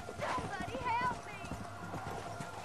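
Rhythmic hoofbeats of a horse in Red Dead Redemption: Undead Nightmare clop along under excited talking, with a brief horse whinny near the start.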